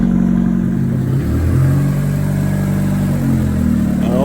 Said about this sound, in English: Sounds like we have exhaust going out in the rear of the car again